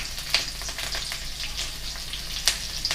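Green chillies crackle in hot oil in a pan, a close, bright sizzle with sharp pops and spits over a steady frying hiss and no talk.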